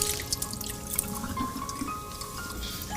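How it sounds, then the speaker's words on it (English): Water poured over a kitchen sink while koshering it, a soft continuous splashing and trickling with small drips, close and fairly quiet. "Same thing, Erie, pouring it over every part."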